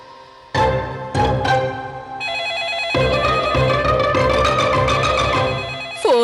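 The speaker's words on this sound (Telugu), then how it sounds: "ఫోన్ రింగ్ అవుతుంది." A telephone rings in a Telugu TV serial, a loud melodic ringtone that starts in bursts and then plays continuously, with music-like tones and no speech.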